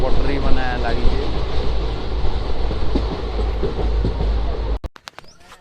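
A train runs along railway tracks beside a wheat field during harvest in Haryana, a loud, steady rumble that cuts off abruptly near the end, with a voice talking over it.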